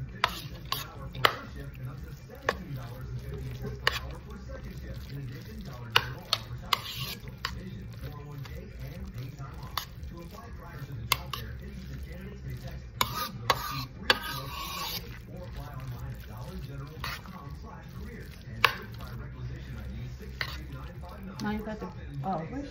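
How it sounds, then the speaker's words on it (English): Jackfruit macaroni salad with chopped red, yellow and orange peppers and white onion gets stirred and scraped in a bowl, producing repeated clicks and rubbing strokes while a person talks intermittently. "And let's get to mixing."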